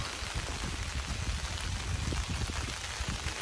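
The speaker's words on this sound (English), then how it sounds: "we've been in the stand, it's been raining about 30 minutes." Steady rain falls on a Muddy pop-up tree umbrella over a hunting tree stand, making a continuous close hiss of dense pattering drops with no voices.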